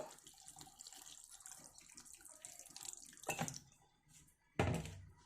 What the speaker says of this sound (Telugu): ఇప్పుడు ఇందులో నేను కొంచెం వేడి నీళ్ళు వేస్తున్నాను